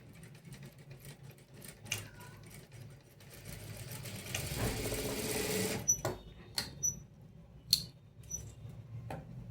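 Sewing machine stitching a three-dart blouse runs in short bursts and one longer steady whir, with clicks and handling sounds between runs, heard close up and fairly quiet.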